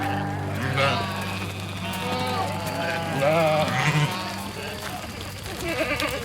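Sheep bleat in short, wavering cries, several overlapping calls rising and falling against a background of talk and music, fairly close and moderately loud.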